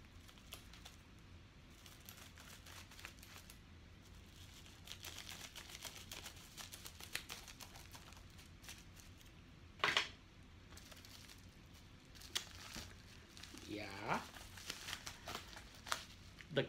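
A paper mailing envelope holding a comic book is cut open indoors, with faint crinkling, paper rustles and small snipping and tearing sounds, plus a few sharper crackles near the end.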